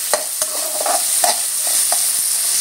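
Onions sautéing in a pan with a bright, constant sizzle and several sharp spoon scrapes as they are stirred, loud and close, with no speech.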